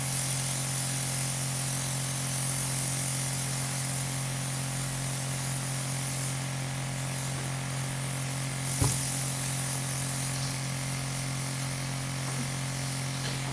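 A Luminessair makeup airbrush kit's air gun gives a steady, continuous hiss of spraying air with a constant mechanical hum beneath it, running alone throughout with a brief click near the end.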